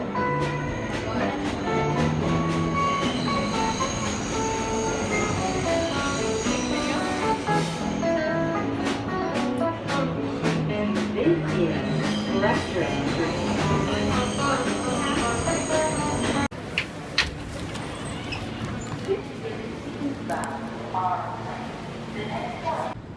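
A New York subway train rumbles and clatters along the tracks with screeching wheels and metallic squeals, loud and close, with voices talking intermittently over the noise.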